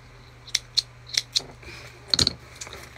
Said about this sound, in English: Just gonna trim up my threads.